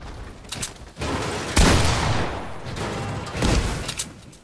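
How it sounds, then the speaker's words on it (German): Fortnite combat with rapid bursts of gunfire-like blasts and two heavier grenade explosions booming through a continuous noisy rumble. "Ich hab jetzt 6 Granaten eingeworfen."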